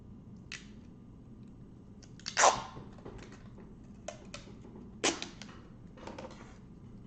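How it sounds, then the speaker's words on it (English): Adhesive tape is pulled off the roll and pressed onto a PS2 disc drive: several short, close ripping tears with one longer, louder pull near the middle and quiet handling in between, with no talking. "And then I just tape the bejabbers out of it"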